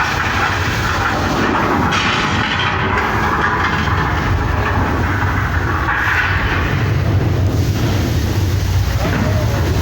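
Simulated subway explosion effect on the Universal Studios tour, a long loud rumbling roar with rail-like clatter, sustained and layered under a tour guide's talk.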